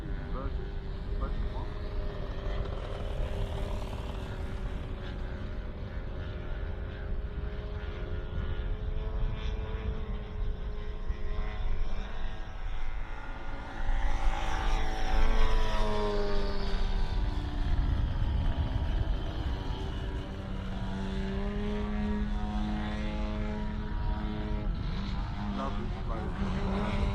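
Pitts Special model airplanes at a model airshow droning overhead as they come in to land, steady buzzing engine tones that rise and shift in pitch as they pass, louder around the middle, with a voice talking over the engines.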